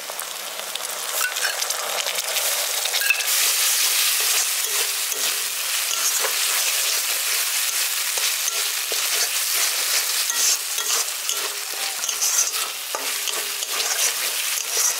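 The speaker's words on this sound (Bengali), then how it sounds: "আদা রসুনের পেস্টটা দিয়ে দেওয়ার পর ওটা খুব ভালো করে ভাজা ভাজা করে নিচ্ছি মশলাগুলোর সাথে" Ginger garlic paste fries with spices in a pan, a loud, close, continuous sizzle with light scraping and clicking as it is stirred throughout, no voices over it.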